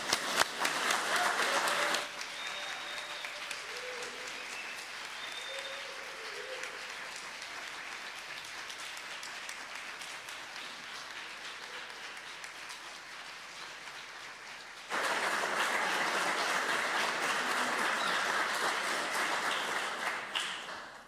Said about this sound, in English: let's congratulate them